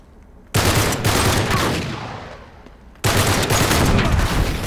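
Gunfire from a rifle in the video game Uncharted 3, two dense bursts of rapid shots, loud and close, separated by a brief drop.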